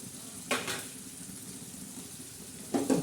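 Green chillies hit hot oil with mustard seeds in a pan and are stirred, making two sharp, close bursts of sizzle and scraping over a soft, steady background crackle.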